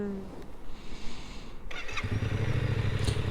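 A motorcycle engine cranks and catches about two seconds in, settling into a steady close idle after a quieter stretch of handling noise.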